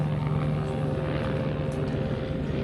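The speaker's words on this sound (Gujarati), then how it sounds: "આ જો હેલિકોપ્ટર," A helicopter flies near a helipad along the mountain trek to Kedarnath, its steady loud rotor thrum and engine drone filling the whole stretch without a break, with no talking.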